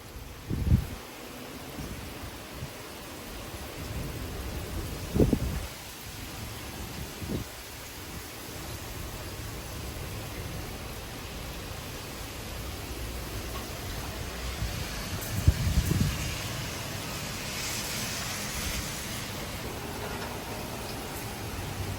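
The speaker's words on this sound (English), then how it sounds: "look at the rain blowing sideways over there" Wind-driven rain blowing sideways in a thunderstorm in Frisco, Texas, a continuous hissing wash broken by several thumping gust hits on the microphone.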